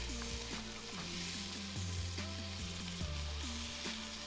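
Garlic and onion fry in oil in a pot at a camp cooking chilli con carne, a continuous soft sizzle and crackle with repeated scraping stir strokes, fairly quiet and with no talking.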